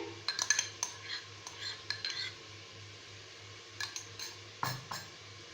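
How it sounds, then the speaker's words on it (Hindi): Yogurt being whisked in a bowl while preparing a Pakistani shahi mutton korma: light metal utensil clinks and scraping taps come in irregular bursts, close and fairly quiet, with pauses between the strokes. "दही को अच्छे तरह से फेंट लेंगे।"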